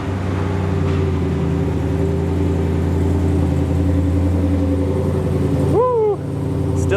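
A modified 840hp Demon-engined Jeep Gladiator idling with a deep, steady, loud rumble close by, then a brief rev near the end before settling back.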